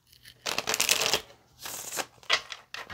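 Tarot cards shuffled up close in three quick bursts of papery riffling, separated by short pauses.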